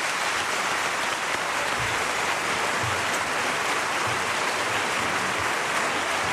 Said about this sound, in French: Ces applaudissements viennent du public rouennais.